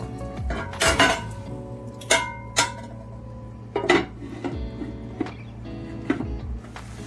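A metal lid clanks down onto a pan of ribeye steak in mango chutney sauce, with a few sharp clinks and knocks of metal and crockery over a low steady hum, close by and without talk.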